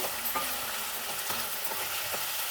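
Dahi chicken with black pepper stirred around in an oily pan, a continuous soft sizzle with faint, regular scraping strokes of a spoon underneath.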